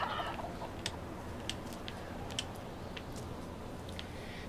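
Chickens cluck in a medieval video game, with sparse, faint clucks and chirps scattered over a steady hiss of background noise and no speech.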